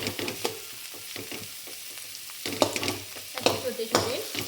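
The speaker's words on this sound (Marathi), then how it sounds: "असा बटाटा छान याच्यात परतून घ्यायचा आहे।" Potato pieces sizzle in a pan for sabudana khichdi, a steady frying hiss broken by repeated scraping stirs and clatters, close and fairly loud with no talking.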